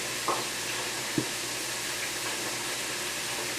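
A spoon stirs a sauce mixed with horseradish and Worcestershire sauce, giving a steady soft hiss with a couple of faint clicks, and no voices.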